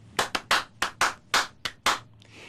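Sharp, close hand claps from a piece performed by two people: about eight crisp claps in an uneven repeating rhythm, each with a short ring, then a pause.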